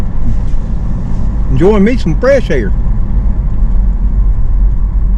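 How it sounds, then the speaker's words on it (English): Road noise in a car driving through a small rural town with the window open: a steady, broadband rushing roar of wind and tyres throughout, with someone speaking briefly over it. "Now I know you can hear a little more road noise right now."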